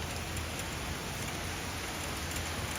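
Steady rain falling, a continuous even hiss of drops on surfaces with no voices, filling the scene at moderate loudness.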